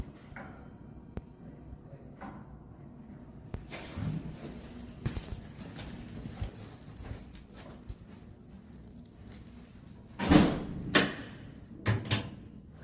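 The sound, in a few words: door moving after hinge adjustment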